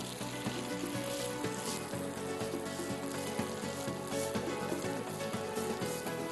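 Chicken paniyaram batter frying and sizzling steadily in a paniyaram pan with a few gentle stirring clinks, close and continuous with no talk over it.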